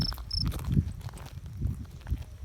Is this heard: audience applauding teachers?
no